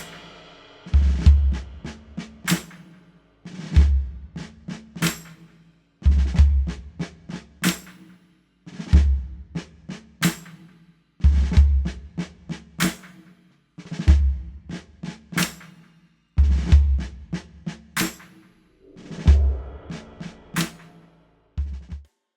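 A drum pattern with a muffled floor tom standing in for the bass drum, a rim click on the backbeat, tambourine and snare, plus swelling cymbals. The bar-long figure repeats steadily about eight times, close and clear with no talking.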